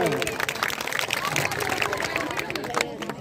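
At a government senior secondary school function, an audience claps in a scattered, uneven burst mixed with crowd murmur and voices close by.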